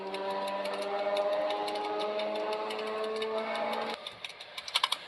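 Electric train motor on a ChS7 locomotive, a steady whining drone with layered tonal lines and fast ticking, running loud and continuous for about four seconds, then cutting out to scattered clicks and knocks.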